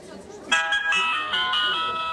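A telephone call tone sounds after a short pause, a steady electronic ringing with layered harmonic pitches that holds for about a second and a half at moderate loudness.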